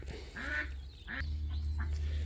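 Ducks on a homestead quack in a few short nasal bursts, fairly close. A low steady rumble sets in underneath partway through.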